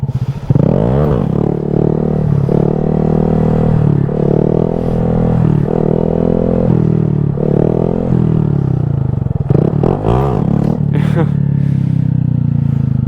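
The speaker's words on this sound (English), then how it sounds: "We'll try and get some revs on one and just set it down with the clutch in." A 125cc Honda Grom motorcycle revs close by with the clutch held in, its engine note rising and falling in a series of repeated blips over a steady idle. There is some clatter near the end.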